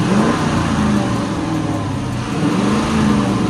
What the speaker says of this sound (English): give us a rev real quick